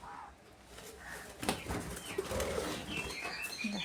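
Pet birds in a cage flapping their wings after being uncovered in the afternoon: fluttering bursts of wingbeats with faint soft coos and chirps, moderately quiet and close.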